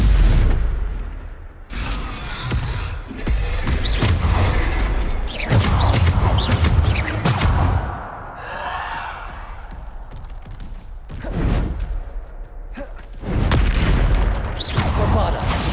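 Bombarda blasting spells exploding in the Hogwarts Legacy video game, a series of loud booming blasts with mechanical clatter, separated by brief quieter gaps, with occasional voice sounds in the mix.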